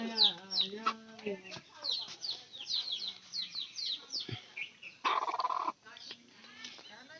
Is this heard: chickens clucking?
yes